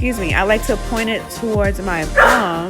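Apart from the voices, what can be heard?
dog barking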